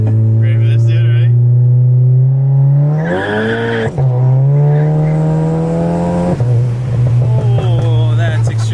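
A big-turbo VW GTI idles on a rolling anti-lag two-step with a loud, steady droning engine note, then surges and revs up in stepped pulls with sharp cuts between them, heard close up.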